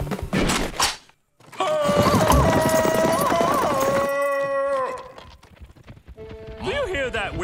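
Hooves clip-clop in a steady rhythm beneath voices and tonal, music-like sounds, fading briefly before the busy mix returns.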